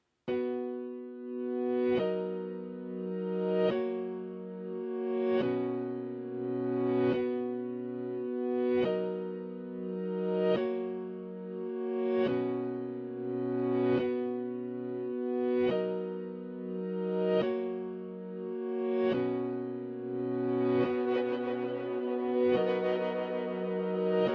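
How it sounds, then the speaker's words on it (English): A synthesizer plays a slow, looping sequence of soft pad chords through a micro echoes preset, each note swelling and repeating in a steady rhythm, sustained and shimmering with no speech. "Let's try micro echoes and see how that sounds."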